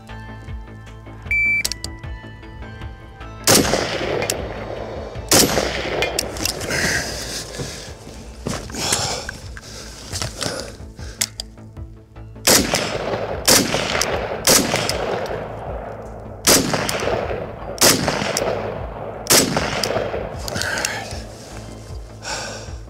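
An AK rifle fires 7.62x39 rounds in a timed shooting drill, loud and close. Roughly a dozen sharp shots come in quick pairs and singles with short gaps between them. Faint movement sounds fall between the shots, and a brief beep comes near the start.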